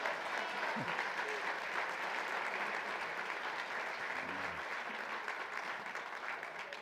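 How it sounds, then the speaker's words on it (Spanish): A church congregation applauds together during a Spanish-language sermon, steady dense clapping filling the whole stretch at a moderate, even level, with a few faint voices calling out beneath it. "Dale un aplauso al Señor, iglesia, porque Dios es bueno."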